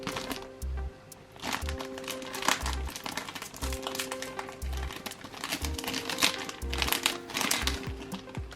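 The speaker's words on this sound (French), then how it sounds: "Allez, on va ouvrir le premier sachet." A plastic booster sachet from Sea Monsters & Co. crinkles and crackles as it is torn open, with irregular close rustles and sharp snaps alongside a few soft low thumps.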